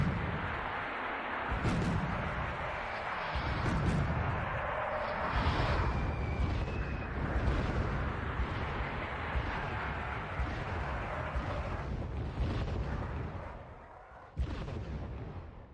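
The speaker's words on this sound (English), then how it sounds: "we start countering the enemy's mortars" Mortar and artillery fire in the Wargame: Red Dragon battle, with dense, continuous booming blasts and rumbling impacts that overlap for most of the stretch, loud and sustained, with a short lull near the end before another burst.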